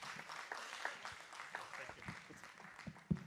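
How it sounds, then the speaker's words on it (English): Audience applause welcoming panelists at a business school research launch event, a steady, moderately quiet wash of clapping from a seated crowd with a louder clap near the end. "please give a big round of applause for our panelists"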